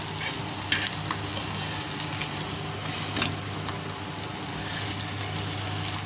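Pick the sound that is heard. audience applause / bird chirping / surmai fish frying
surmai fish frying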